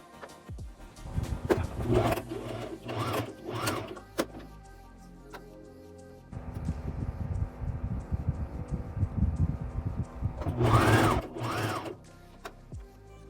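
Electric sewing machine stitching a zipper onto fabric, including an invisible zip, runs in several short bursts and then one steady sustained stretch, close and fairly loud, with no talking over it.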